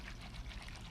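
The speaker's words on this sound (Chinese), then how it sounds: "放入到清水里面， 清洗一下，" Preserved mustard tuber is rinsed in clean water, a brief, faint, close-up pour and trickle lasting about a second.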